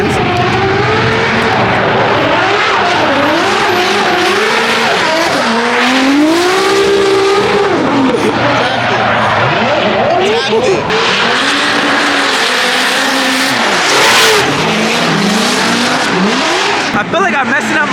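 Formula Drift cars at Long Beach rev hard and skid with screeching tires, engines rising and falling in loud continuous waves close by, with voices talking over the din.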